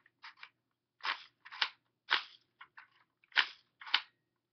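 A Crosman MP5K BB gun fires a string of sharp, close, fairly loud snapping shots, about seven in under five seconds, at uneven spacing with short pauses between them, and no one talks.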